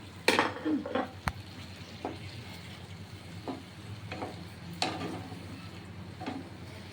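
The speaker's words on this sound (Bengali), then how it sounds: "ব্যাস হয়ে গেল এইবার পনিরগুলো সব আমি ছেড়ে দিলাম" Paneer pieces dropped into a hot pan for a Bengali paneer curry, frying with a soft sizzle while a spoon stirs and taps against the pan in scattered clinks and scrapes, fairly quiet and close.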